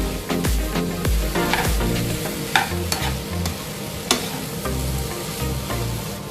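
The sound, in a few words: vegetables for vegetable biryani being stirred in a pan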